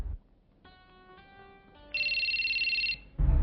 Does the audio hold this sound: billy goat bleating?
no